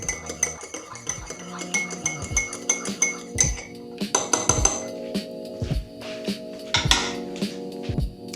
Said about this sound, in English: And now we just give that a final stir, because there's going to be some residue at the bottom